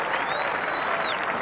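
A cricket crowd at Old Trafford applauds Allan Lamb's century in an England versus India Test, a dense, steady roar of clapping that fills the short stretch from start to end.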